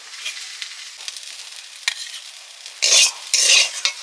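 Greens, kalmi shak, frying in a pan give a soft, steady sizzle, broken by a few louder scraping bursts as a utensil stirs them near the end.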